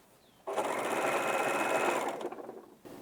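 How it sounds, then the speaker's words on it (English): An overlock machine serging the hem edges of a shirt runs in one steady, loud burst of about a second and a half, then slows and stops, with faint handling noises at the end. "we'll use the overlock machine to overlock the edges"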